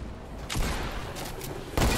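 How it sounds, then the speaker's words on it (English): Assault or hunting rifle gunfire in the video game Fortnite crackles steadily as a noisy stream of shots, with a heavier burst near the end. "I'm gonna pretend I didn't get shot with an assault or a hunting rifle like 2 feet in"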